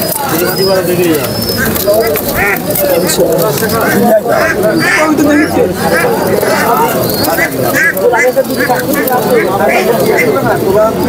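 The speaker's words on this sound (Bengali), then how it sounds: "এই যে এক জোড়া কবুতর দেখেন খুব সুন্দর" Pigeons at a crowded weekly pigeon market, soft repeated cooing under dense crowd chatter and bargaining voices throughout.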